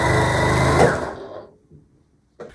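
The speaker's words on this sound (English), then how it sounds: "now I'm sewing before I cut it" A sewing machine runs steadily as it stitches through folded quilt backing fabric, a loud continuous motor whir lasting about a second before winding down, followed by faint handling noises and a brief clunk near the end.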